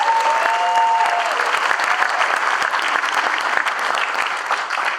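A dense, sustained round of applause from an audience at a swearing-in ceremony at LA Harbor College, loud and continuous throughout, with a brief tonal whistle or voice near the start.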